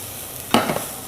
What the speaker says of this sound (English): in with our onion and our garlic straight away. That should be sizzling.